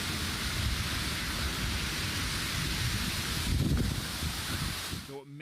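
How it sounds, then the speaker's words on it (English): Strong storm winds with heavy rain play back from a recording, a loud, constant roar with gusty surges and a brief swell of low rumble near the end before it cuts off. "this video here kind of does a good job of showing just how strong the winds was"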